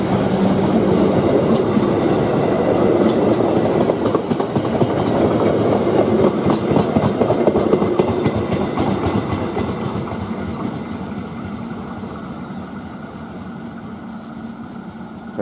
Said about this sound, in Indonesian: Kereta Dharma Wangsa.